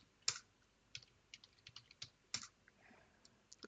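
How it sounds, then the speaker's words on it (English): A password tapped out on a computer keyboard during an Arch Linux setup in VirtualBox: a quick run of soft, close key clicks with a few sharper presses, uneven rhythm, no talking. "so I'll just type in passwd hermano and put in the password"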